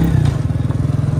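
A motorcycle engine idles close by in a steady, even putter with a rhythmic low throb through the whole moment, loud and alone without any voices.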